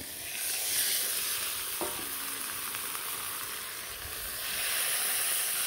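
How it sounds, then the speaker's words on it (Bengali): Broth is poured into fish frying with gourd for a curry, giving a steady soft sizzle and hiss with a brief splash as the liquid goes in, fairly quiet and close. "বেশ ভালো করে ভাজলাম। এখন দিয়ে দিন হলো ঝোল।"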